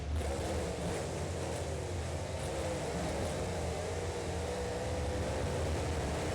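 Several monster truck engines roar together in BeamNG.drive during a loud qualifying session, a dense, steady, continuous drone with no pauses and no talking.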